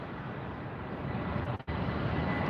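Southwest airliner on approach to LAX: a steady, distant broadband jet roar holds throughout with a brief dip partway, with no talk.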